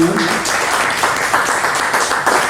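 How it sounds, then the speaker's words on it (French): A crowd applauds after an art talk, honoring Dr Michel Fouquet and Coco; the clapping is dense and steady and fills the whole short stretch, with faint voices mixed in at first. "merci d'applaudir Monsieur Dr Michel Fouquet et Coco"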